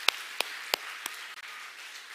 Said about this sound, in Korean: 우리 3040 육아에 지친 격려합시다. 박수 한번 보내죠.